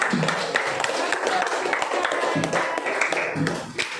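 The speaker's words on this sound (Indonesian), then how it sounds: "Tepuk tangan dong untuk kelompok mereka." Classroom of sixth-grade pupils clapping for a student group, a steady dense patter of many hands filling the room, with children's voices chattering underneath.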